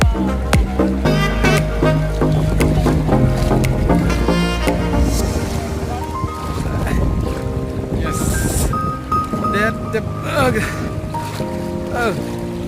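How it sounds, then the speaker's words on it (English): A boat crossing the Lankpi River against a strong, fast current, with steady water and motor noise throughout, close and loud, while people talk briefly over it. "Now we are crossing the river. Oh, the current of the water is very high."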